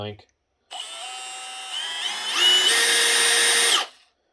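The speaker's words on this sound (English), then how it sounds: "I wasn't expecting such an obnoxious sounding drill." A Milwaukee M18 Fuel 3697-22 cordless hammer drill whirs with a shrill, high-pitched whine, revving up higher partway through before cutting off; a brief voice is heard just before.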